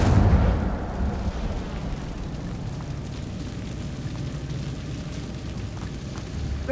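Incendio fire spell cast in a Harry Potter video game: a loud roaring whoosh and rumble that bursts at the start, then settles into a steady crackling, fiery wash that continues to the end.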